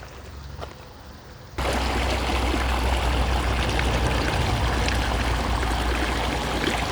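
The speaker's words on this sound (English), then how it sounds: "here's the source of the water coming in." A small stream of water runs by a stone culvert along an abandoned railroad, starting quieter and then swelling into a close, steady rushing trickle after about a second and a half.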